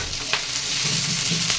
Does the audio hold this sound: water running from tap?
no